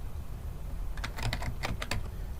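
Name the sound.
computer keyboard typing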